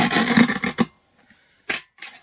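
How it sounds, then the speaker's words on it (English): Paper being trimmed with a craft trimmer or cutter for a card project: a short scraping slice, then two brief rasping cuts after a pause, close and fairly crisp. "So I'm going to just trim this off."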